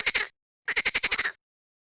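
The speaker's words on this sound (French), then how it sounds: "C'est la grenouille qu'il faut cliquer." A cartoonish frog croaks in two bursts in the children's game Adibou'chou à la campagne, a short run of three croaks, then a quicker string of about eight, with nothing else around it.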